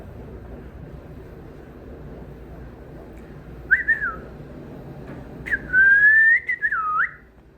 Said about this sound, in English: Let me hear you whistle.